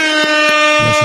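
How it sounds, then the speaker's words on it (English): A loud, blaring air horn sound effect sounds continuously for about a second, steady and piercing with faint rhythmic thumps underneath. "Air horns for 9U All-Star Reese Caraway"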